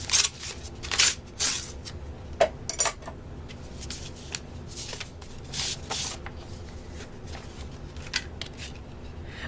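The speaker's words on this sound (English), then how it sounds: "You have a look at that while I open up this card." Paper crinkling and tearing as an Easter greeting card is opened, with a run of sharp rustles and rips spread through the stretch and quiet gaps between them, close to the mic and with no talking.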